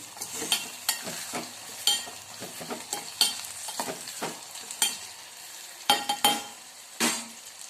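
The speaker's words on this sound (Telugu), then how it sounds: "ఇలా టమోటా అన్నీ వేసేసుకుంటే వేగుతాయండి, ఫ్రై అవుతాయి" Tomatoes frying in oil for Rayalaseema poori curry sizzle steadily, with repeated scraping stirring strokes and clinks of a spoon against the pan, close and without talk.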